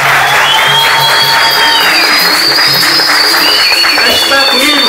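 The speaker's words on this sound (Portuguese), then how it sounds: "Uma salva de palmas para o mestre Quincas" At a capoeira graduation ceremony in Recife, a crowd claps and cheers loudly and continuously, with shouts rising over steady applause and a voice speaking through the noise.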